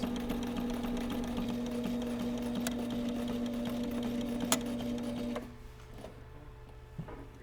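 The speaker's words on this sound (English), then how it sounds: "This is the machine to have if you ever do any on-site sewing like this." A portable sewing machine runs in a steady, fast mechanical whir while stitching a car seat cover, then stops and leaves a quieter background.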